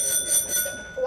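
A small dollar-store bell rung in a classroom gives three or four quick bright metallic dings in a row, close and clear, with no talking over them.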